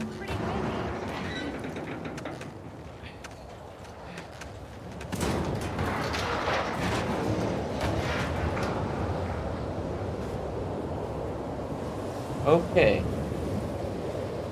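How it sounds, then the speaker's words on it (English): Storm wind roars in The Last of Us Part II, a broad, loud rush that swells stronger partway through, with a brief sharp crack near the end and a voice speaking briefly. "The storm is here. Storm's really picked up."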